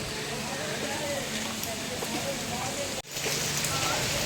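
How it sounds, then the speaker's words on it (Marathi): Heavy monsoon rain pours steadily near the Tungareshwar Mahadev temple in Vasai, a dense continuous hiss close by that cuts out for an instant before resuming. "बघा, जोरात पाऊस आला आहे."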